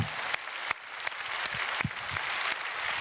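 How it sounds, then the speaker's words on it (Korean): A church congregation claps in praise during a Korean sermon, a soft, steady patter of many hands spread across the room, fairly quiet and distant, with a few sharper claps standing out. "하나님께 영광에 박수합시다."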